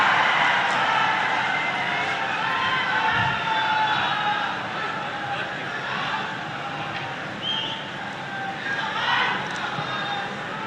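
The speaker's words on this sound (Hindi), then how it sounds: "जोरदार तालियों से आप सब स्वागत करें माननीय का।" A large crowd at an outdoor public event in Bihar applauds and cheers to welcome Chief Minister Nitish Kumar, a steady dense roar of clapping and voices running throughout.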